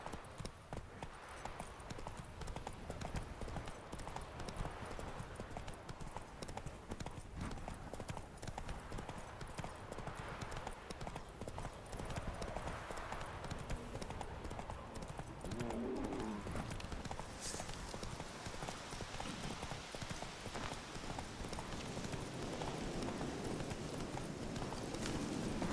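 A horse gallops in The Witcher 3, its hooves pounding in a fast, continuous rhythm for the whole stretch over a dense wash of ambient game noise.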